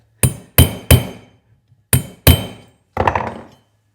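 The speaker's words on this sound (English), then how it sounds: "I'm going to switch over to a bigger hammer." A hammer strikes metal while crimping a morchang jaw harp, six sharp ringing blows in two groups of three with brief pauses, the last one duller and more ragged, with no voices.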